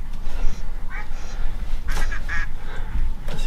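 Duck quacking during a hide hunt in the Médoc, France: a few short nasal calls at moderate distance over steady low wind rumble and outdoor background noise.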